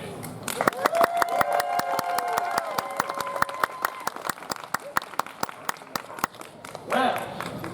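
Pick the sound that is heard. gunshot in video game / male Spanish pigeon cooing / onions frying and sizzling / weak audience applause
weak audience applause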